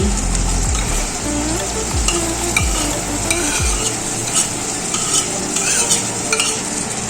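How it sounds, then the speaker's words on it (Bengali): Buttery chicken ball mixture and spices being stirred in a hot pan, repeated scraping strokes over a constant close sizzle, no voices. "নেড়ে চেড়ে নিচ্ছি"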